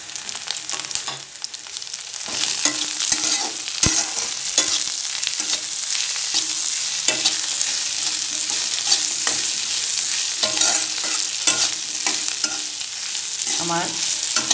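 Salted olives fry in a pan while being stirred, a continuous close sizzle broken by irregular scraping and clinking strokes of the spoon, with no talking.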